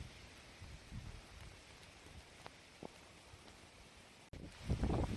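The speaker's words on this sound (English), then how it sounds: "Absolutely raining cats and dogs" Heavy rain and wind sweep over an outdoor construction site at Anfield Road, a faint steady hiss with scattered drops, swelling into louder gusty buffeting near the end.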